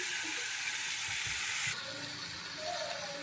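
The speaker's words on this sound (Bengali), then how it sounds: "ভালো করে ভেজে নিচ্ছি," Food sizzling and frying steadily in a pan during Bengali home cooking, a loud continuous hiss with light stirring, no voices.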